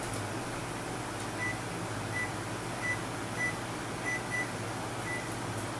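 Repeated short electronic beeps from a kitchen timer set during a rack of lamb dinner preparation, sounding as a faint, steady series of chirps over a constant low hum of kitchen appliance noise.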